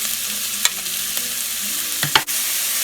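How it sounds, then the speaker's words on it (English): One big chopped onion sautéing in a pan with spices for a Nilgiri vegetable kurma, a steady close sizzle with occasional spoon taps and scrapes against the pan. "Saute the onion, till they become translucent."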